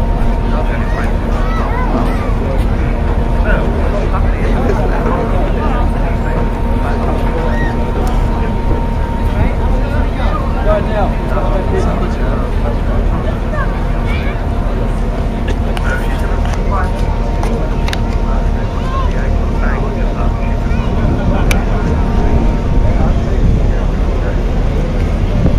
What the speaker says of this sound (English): A British nuclear bomber